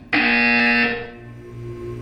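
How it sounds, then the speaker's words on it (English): A loud, harsh electronic buzzer in Portal 2 sounds abruptly and holds for about a second, then drops to a quieter hum that lingers. "You will hear a buzzer."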